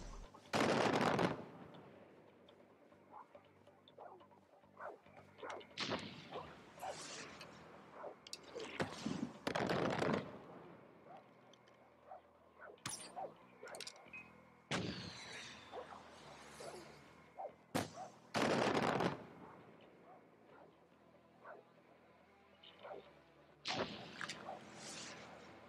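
Bombing and gunfire in the video game Far Cry 4: bursts of automatic fire and sharp blasts arrive in irregular clusters between quieter stretches, some loud and close, others more distant.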